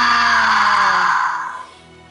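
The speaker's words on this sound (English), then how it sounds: "you can hold Vulcan upright and move him up and down to make him screech and flap" A Fingerlings Legends dragon toy, Vulcan, lets out a loud, shrill electronic screech close up that slides downward and fades out after about a second and a half.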